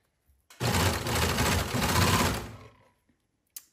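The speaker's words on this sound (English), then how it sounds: "So raise your needles, lift your presser foot, pull a little bit to make sure your fabric lays flat under the needle" A sewing machine stitches fabric for a caftan dress, one steady close burst of rapid mechanical whirring lasting about two seconds, then stopping with a faint click afterward.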